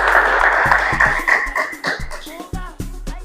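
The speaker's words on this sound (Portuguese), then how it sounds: "Para a Angelina Chiongo, gostaria de uma salva de palmas" An audience at a student speaking contest claps for a young speaker, a loud burst of applause that thins into scattered individual claps and fades toward the end.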